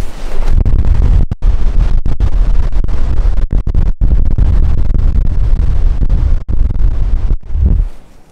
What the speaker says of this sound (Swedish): Helvete vad det blåser